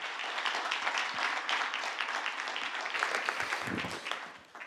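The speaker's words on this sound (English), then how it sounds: "A big round of applause to our panelists" A ceremony audience applauds its panelists at the Geneva Peace Week 2021 closing, a steady, dense round of clapping that holds for several seconds and thins slightly at the end.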